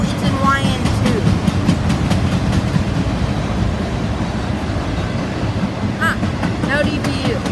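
A long freight train passes close by on a Florida mainline, a continuous heavy rumble with rhythmic clatter of wheels, a few squeals rising near the end, and a voice talking over it.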